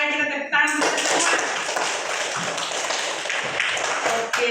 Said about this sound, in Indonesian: Ayo kita tepuk tangan semua